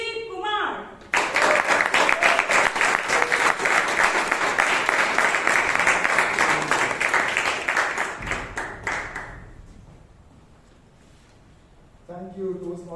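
An audience at a Bangalore Toastmasters Club meeting breaks into a long, dense round of applause to welcome the club president. The clapping is loud and sustained for several seconds, then fades out, with a speaking voice before and after it.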